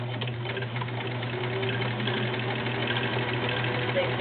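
Vintage Kenmore model 1774 sewing machine runs a zigzag stitch with a steady mechanical hum and fast rhythmic needle clatter, close up and continuous, with no talk.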